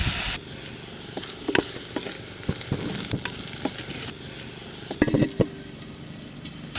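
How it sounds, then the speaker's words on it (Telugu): Onions and chopped green chillies fry and sizzle in hot oil for a tindora masala curry, a steady crackle with occasional stirring clinks and scrapes of a spoon in the pan, close and without talk. "ఉల్లిగడ్డలు వేసినాక ఒక 2-3 నిమిషాలు ఇట్లా నూనెలా ఉల్లిగడ్డల్ని మగ్గనియాలండి"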